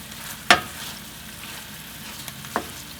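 Garlic scapes stir-frying in sauce in a hot pan, a soft continuous sizzle with a couple of sharp clacks of a utensil against the pan.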